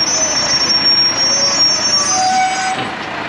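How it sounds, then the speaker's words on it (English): High, piercing brake squeal from a grass silage trailer during second-cut silage harvest, a sustained shrill whine wavering over low machinery rumble, with faint voices in the background. "I don't know why the brakes are so squealy on that one tonight"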